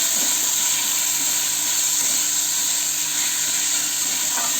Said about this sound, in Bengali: এরপর আমি মটরটা ভাজবো